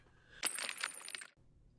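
The cry of Dwebble, the Rock Inn Pokémon, from a Pokémon video game: a short, shrill, rattling chirp just under a second long, with a bright metallic edge, heard alone.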